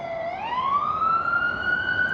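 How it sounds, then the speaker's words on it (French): An emergency vehicle siren on a New York City street wails up in pitch and holds a steady rising tone, loud and continuous over low traffic rumble. "Tous les jours, même pendant la nuit, on a cette sirène."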